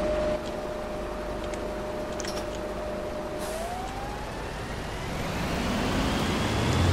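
Bus engine in the OMSI 2 bus simulator game drones steadily with a whining tone that rises in pitch toward the end as it revs harder, heard alone without talk.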